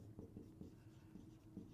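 Pen or pencil writing by hand on paper while working a math exercise, a quiet steady scratching with small rhythmic strokes, faint and close.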